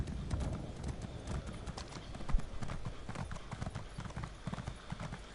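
Horse hooves in The Elder Scrolls Online clip-clop in a quick, steady rhythm at a trot, close and clear over a soft background hiss.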